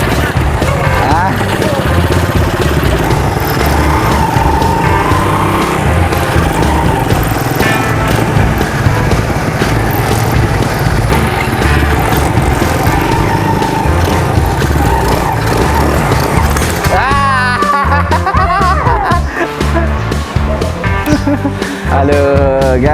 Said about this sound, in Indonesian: kalau ingin coba bawa becak motor ke Aceh guys